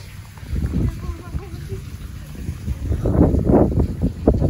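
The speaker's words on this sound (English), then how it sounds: "It's getting windy." Wind gusts outdoors on a snowy day, rumbling against the microphone in uneven buffets that swell louder toward the end, with no other clear sounds.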